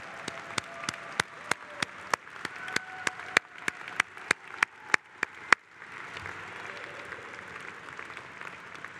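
Convention audience breaking into applause at a union convention, a run of sharp distinct claps at first that gives way to a steadier, denser wash of crowd clapping in a large hall.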